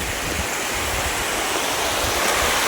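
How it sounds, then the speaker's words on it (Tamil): Continuous broadband rush of water at the top of Masila waterfall in Kollimalai, a steady close roar with no speech over it. "இங்கே தான் பார்த்தீங்கன்னா மாசிலா அருவி ஃபால்ஸ் ஸ்டார்ட் ஆகிற இடம்."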